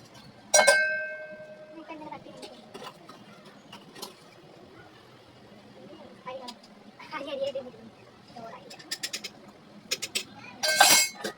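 Dishes being washed by hand in a home kitchen, with sporadic clinks and knocks of pots and plates against each other at close range, interrupted by a few louder bursts and with someone talking over much of it.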